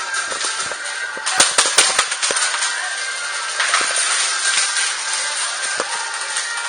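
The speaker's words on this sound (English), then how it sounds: "Oh, they're shooting at you?" Airsoft guns firing during an attack-and-defend game, a scattering of sharp snapping shots in quick bursts over steady outdoor background noise, some close and loud, others fainter.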